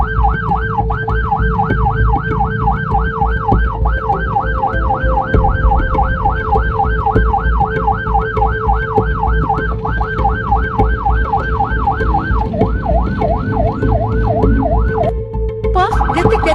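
An ambulance siren wails in a fast, repeating up-and-down cycle, loud and near, over a constant low road rumble as the ambulance is held up by an official car; the wail stutters and changes pattern toward the end.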